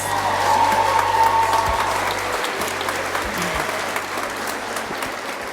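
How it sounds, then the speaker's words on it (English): A graduation audience applauds nursing graduates at a spring pinning ceremony, a loud, steady wash of clapping that holds for several seconds before gradually thinning. "How about a round of applause for our graduates?"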